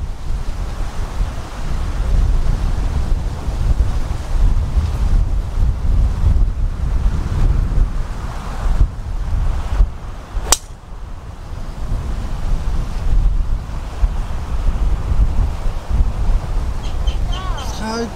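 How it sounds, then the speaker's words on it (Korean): Strong wind roars across a seaside golf course, a steady low rumble buffeting the microphone throughout, with a brief sharp transient near the middle. "바람이 많이 부는데?"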